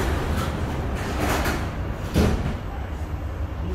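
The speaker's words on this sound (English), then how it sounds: "Doors are closing." Doors closing on a Singapore MRT train, a sliding rumble and thud over the steady hum of the carriage, fairly close.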